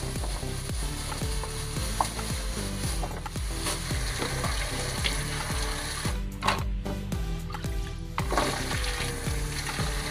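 String beans cooking in a little oil in a pan, a steady sizzle and fry under a repeating mechanical whirring rhythm that continues throughout, close and fairly loud.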